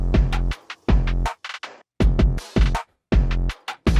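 Full drum mix with punchy kick and deep 808 hits, crisp hi-hats, snares, an impact and extra background percussion, playing a loud, steady rhythmic pattern with brief gaps between bars.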